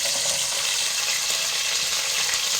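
Small sambar onions frying in a pan, giving a steady, soft hiss and sizzle with no breaks.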